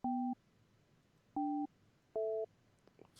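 A telephone busy signal after dialing: three identical two-tone beeps spaced about a second apart, clear and close, alone on a quiet line with a faint click at the end.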